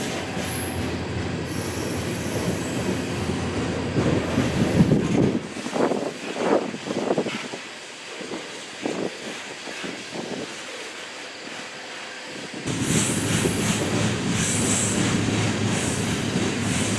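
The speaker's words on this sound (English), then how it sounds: "usually on coal trains like this one" A BNSF coal train rolls past up close, loud steady rumble of wagons with sharp metallic wheel squeals rising and fading over about seventeen seconds, wind noise throughout.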